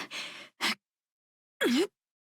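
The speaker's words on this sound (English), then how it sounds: "Even the heavy breathing climbing moans of Aloy have low energy flux." Aloy's heavy, effortful climbing breaths in Genshin Impact: two short breathy exhales, a pause, then one close voiced moan that dips and rises in pitch before silence.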